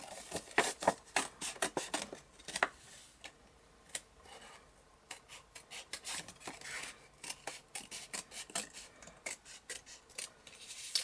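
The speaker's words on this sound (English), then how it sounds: "I cut in the middle, and then I just cut out my little circle." Scissors snip through folded paper while cutting out a small circle for a CD Christmas shaker craft, producing quiet, quick, irregular crisp snips close by.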